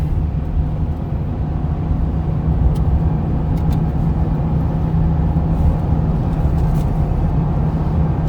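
A Toyota Veloz engine roars steadily under hard acceleration, a loud low drone with road rumble heard from inside the car, constant throughout, no talking.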